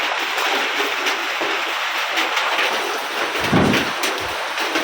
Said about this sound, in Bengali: আর এইদিকে বৃষ্টি শুরু হয়ে গেছে।